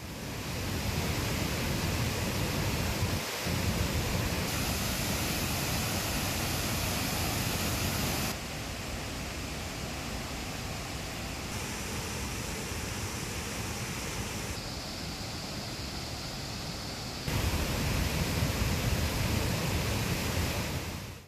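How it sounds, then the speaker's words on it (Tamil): The Thirparappu waterfall, swollen with floodwater, roars as a dense, continuous rushing wash of broadband water noise, loud and unbroken for about twenty seconds with only shifts in level between shots. "முக்கிய சுற்றுலா தலமான திருப்பரப்பு அருவியில் தண்ணீர் ஆர்ப்பரித்து கொட்டி வருகிறது"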